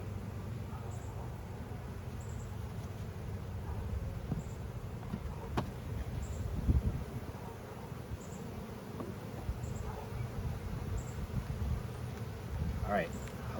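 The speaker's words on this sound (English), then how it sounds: "all these bees in the feeder are gonna go nuts" Honeybees crowding a hive feeder, a faint steady buzzing hum with occasional light clicks and knocks, while someone talks nearby.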